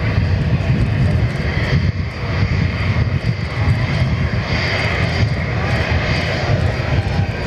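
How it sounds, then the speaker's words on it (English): A Qantas Link A320 airliner taxiing past at an airport, its jet engines giving a loud, steady roar that holds throughout without any talk. "Got a Qantas Link A320 about to come and taxi past."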